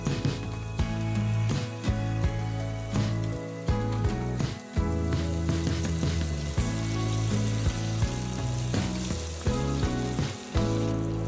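Red Thai chili peppers and red onion fry for pork sisig, giving a loud, steady sizzle with scattered crackles and pops that runs throughout with no talking.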